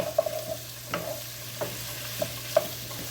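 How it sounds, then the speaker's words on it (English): A spoon stirs hamburger stroganoff with mushrooms in a pan, giving a few soft, scattered scrapes and clinks over a faint low sizzle and steady hum. "So we're going to stir all of this together."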